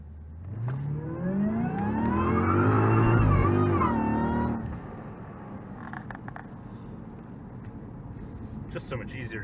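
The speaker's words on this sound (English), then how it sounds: "here we'll launch it across the intersection here and see how it does" A Cadillac STS-V launches hard across an intersection, its engine revving up loudly and climbing through a gear before easing off into steady road noise.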